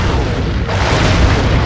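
A heavy, booming blast fills the clip, a dense continuous roar of low-end rumble like cannon fire in the game Sly 3: Honor Among Thieves, loud and sustained without pause.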